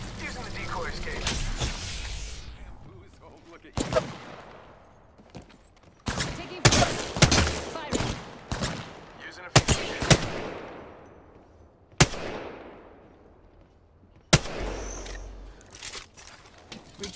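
Apex Legends gunfire in a firefight: repeated loud bursts and single sharp shots with decaying tails, separated by brief pauses, mixed with game effects and in-game character voice lines.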